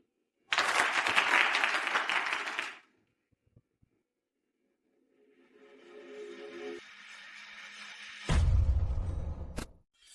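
Wedding guests clap for the bride in a loud, dense burst of applause lasting a couple of seconds, then quiet, then murmuring and a softer sound, ending with a heavy low thump.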